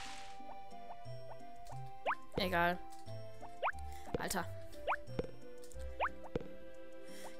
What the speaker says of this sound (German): ich wollte gerne jetzt einmal hier meine Gießkanne leer machen